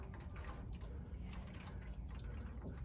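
Engine oil streams steadily from the drain plug of a van during an oil change, a close, continuous liquid pour with faint dripping.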